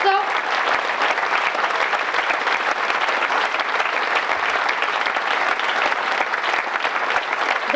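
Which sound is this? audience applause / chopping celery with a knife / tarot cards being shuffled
audience applause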